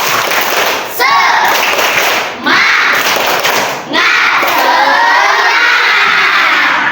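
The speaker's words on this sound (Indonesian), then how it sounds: "Ayo kita bakar semangat kita pagi ini dengan tepuk semangat." A class of schoolchildren performs a tepuk semangat, a rhythmic clapping cheer, loudly and up close, with shouted chanting and sharp claps in several energetic bursts separated by brief pauses.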